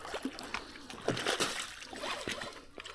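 Splashes and sloshing as a fish, likely a large trout feeding on kokanee in British Columbia, thrashes in the water while being netted, irregular bursts close by with faint voices in the background.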